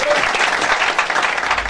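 A church congregation applauds and cheers during a Sunday service, a dense, steady wash of clapping that fills the whole moment at close range without letting up.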